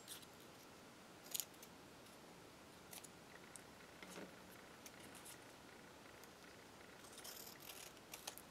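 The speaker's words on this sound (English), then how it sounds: "we're going to cut this up a little bit more" Scissors snipping craft cardstock, a few faint, sparse clicks and crisp cuts spread over quiet room noise, close by with no talking.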